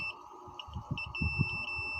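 A continuity tester beeps steadily while probing a shorted drain and source on the board of a Samsung UA55J6200AR 55-inch smart TV that has no power, a thin high tone over soft handling noises, close and quiet.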